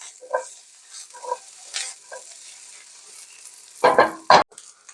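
Beet stems and onions tossed in a hot pan, with short bursts of sizzling and stirring scrapes spaced apart and a louder clatter of tossing near the end.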